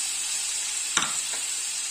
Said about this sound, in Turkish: Şimdi soğan ve sarımsakları ilave ediyorum.